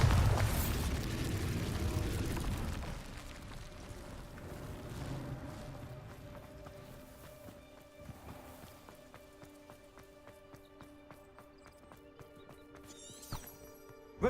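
A Bombarda spell in the Hogwarts Legacy video game goes off as a heavy booming blast at the start, then fades into rumbling debris, faint ambient tones and scattered small clatters.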